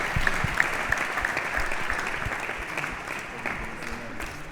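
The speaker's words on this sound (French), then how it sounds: "Je vous prie d'applaudir très fort pour Serge Nosso qui va faire son entrée." An audience claps for a performer's entrance: dense, steady applause that holds at a moderate level from start to finish.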